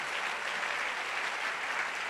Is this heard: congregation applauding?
yes